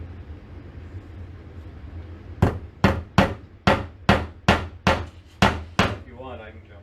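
Nails hammered into a wooden board for snowflake string art: nine crisp, evenly paced strikes in a steady rhythm, close and loud, after a quiet start.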